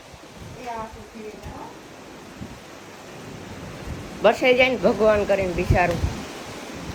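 Cold wind blows during rain in a village, making a steady broad rush that grows louder toward the end while someone talks over it.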